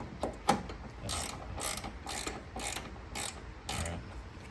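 A ratchet works on the size 11 nut that holds the fan shroud of a 1980 MGB during radiator replacement, giving close, bright rhythmic clicking in about six short bursts with brief pauses between them.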